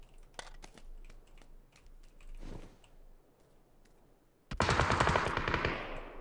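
Rapid bursts of video game gunfire, scattered single shots and short clusters early, then a loud dense volley of automatic fire in the final seconds; no speech.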